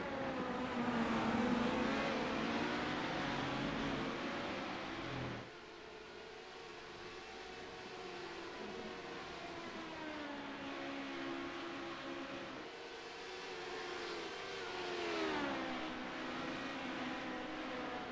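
Race cars in a racing video game driving through a chicane on cold tires, high-downforce engines whining and shifting pitch as they brake and accelerate, steady and moderately loud throughout.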